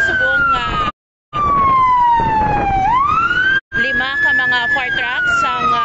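Fire truck sirens wail as more engines arrive at a blaze in Muelle Loney, Iloilo City, a loud gliding tone sweeping down then rising again, cut by two brief dropouts, with talk underneath.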